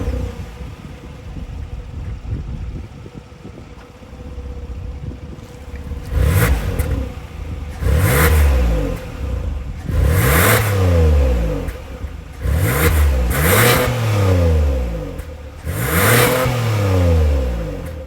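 A 2023 Hyundai Palisade Calligraphy AWD with its 3.8 liter V6 revs repeatedly from idle, five or six loud rising-and-falling blips in an uneven rhythm, heard up close with no talking.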